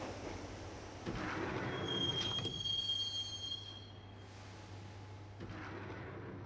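A train ride in the Max Payne video game: steady rolling rumble with a low hum, metallic squeal and brakes, wheel noise rising and easing over several seconds, no voices.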